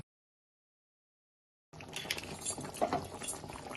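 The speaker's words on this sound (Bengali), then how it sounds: "এবারে আমি মাংসটাকে হালকা আছে নাড়বো" Meat being stirred in a pot with a little hot water while cooking a garlicky home-style dish, a sudden steady sizzling and bubbling that starts after a stretch of silence and carries on close and busy to the end.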